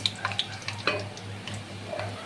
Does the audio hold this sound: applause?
no